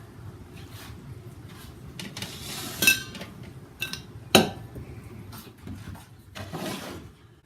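Nesting camping cookware, old mess kit pots and lids, being packed together, giving sparse metallic clinks and clanks at irregular intervals over a quiet background.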